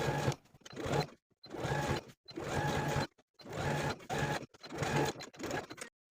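A sewing machine stitches the seam allowance to the front bodice edge of a cardigan jacket in five steady bursts separated by short silent pauses, the needle whirring close and clear.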